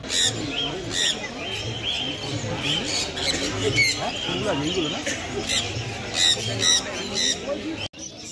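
Sun conures at a Kolkata bird market squawk in sharp, shrill bursts again and again, close and loud over a busy crowd murmur, while someone talks throughout.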